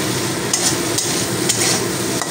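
Small shrimp stirred while frying in oil in a pan over medium flame, a loud dense sizzle with regular spatula scrapes roughly every half second, close and without talking.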